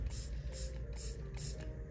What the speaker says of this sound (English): we're gonna go ahead and spray this solution inside of the mixture of ingredients